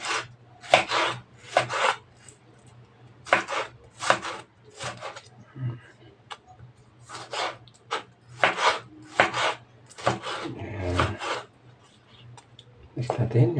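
Tomatoes are sliced with a knife on a board in a home kitchen, producing a run of short, crisp cutting strokes in uneven bursts, close by, with a person talking in between.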